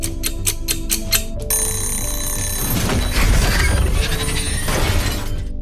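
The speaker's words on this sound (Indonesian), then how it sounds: "ketika tiba-tiba alarm berbunyi" An alarm clock rings from a scene in the film A Quiet Place, a loud, rapid run of metallic bell bursts that cuts off suddenly and gives way to a crash, rumble and noisy tense sound.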